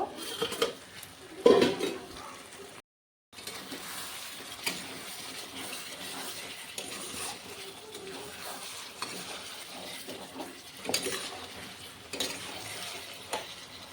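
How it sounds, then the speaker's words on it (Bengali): A metal lid clinks as it is lifted off a pot of village-style chicken kosha, followed by a soft sizzle and light stirring, utensils tapping now and then. "ঢাকাটা উঠিয়ে দেখে নেব।"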